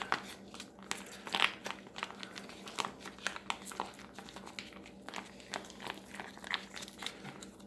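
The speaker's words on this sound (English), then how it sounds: "let's give our peanut butter a quick knead" A packet of decades-old MRE peanut butter being squeezed and kneaded by hand gives a close, quiet stream of crinkling and crackling plastic with irregular soft rustles.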